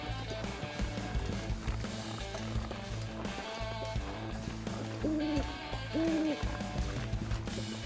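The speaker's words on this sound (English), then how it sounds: "You hear the owl?" An owl hoots twice in the survival game The Long Dark, two clear wavering calls over a steady bed of windy ambience and game music, moderately loud and without speech.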